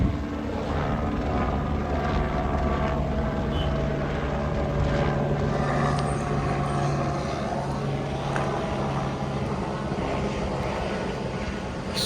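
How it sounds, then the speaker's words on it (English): A police helicopter flies overhead, its engine and rotors making a steady, continuous drone that holds at a moderate level throughout with no voices. "The police seem to be flying around in a helicopter that's coming right at us."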